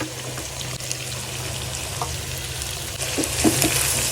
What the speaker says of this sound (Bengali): এখন ভেজিটেবল আর চিকেন ভালো মতন একসাথে মিক্স করে নিব